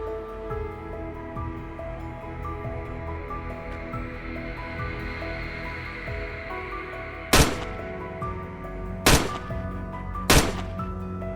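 Gunfire during a boar hunt from a helicopter: three loud, sharp shots in the last few seconds, spaced more than a second apart, over the steady drone and whine of the helicopter.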